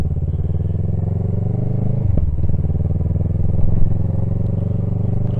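An old scooter engine idles and putters steadily, with a sharp pop around the middle as the throttle is released, then keeps running close by.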